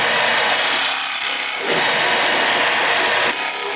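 Wood turning on a lathe while shaping a top, a continuous loud grinding cut with abrupt shifts in tone as small cracked chunks of wood break off the spinning piece.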